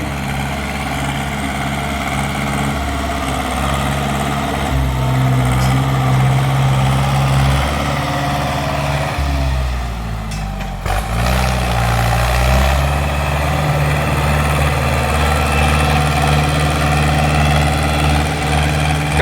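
A Ford 6610 tractor's diesel engine runs steadily at idle, a loud, continuous low rumble with a brief dip near the middle, no voices.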